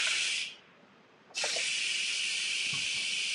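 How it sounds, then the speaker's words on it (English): Steam hisses sharply from an Instant Pot pressure release valve, a bright steady jet that drops away briefly, then surges back and keeps hissing evenly at close range. "you just push it forward, and the steam is going to shoot up."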